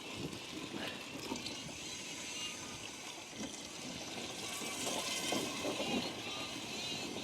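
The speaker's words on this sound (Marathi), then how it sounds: "आता त्याच्यात मी पाणी ओतून घेणार आहे" Water poured into a spicy crab curry made with crabs caught from a forest stream, added to the masala and oil in a pot. It makes a steady, moderately loud splashing pour that runs for several seconds with no talking.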